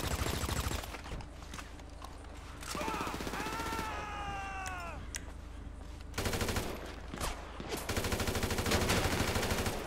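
Rapid automatic gunfire in the GTA Online Survival mode rattles in dense bursts over game sounds, with tonal effects briefly rising midway and the shooting resuming loudly afterward.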